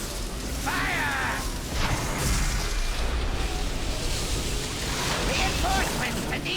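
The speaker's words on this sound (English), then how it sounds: "All cannons, fire!" Booming cannon blasts roll through a World of Warcraft: Battle for Azeroth dungeon battle in heroic Operation Mechagon Junkyard, dense and continuous explosions mixed with game effects and voices speaking over them.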